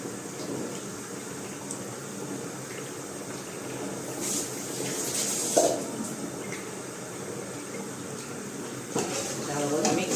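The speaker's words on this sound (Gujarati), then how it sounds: "હવે એને પાકવા દઈશું ગ્રેવીને" Gravy simmers in a cooking pot in a home kitchen, making a soft, steady bubbling and hiss. A few faint clinks of the pot come through, and the sound runs under quiet voices.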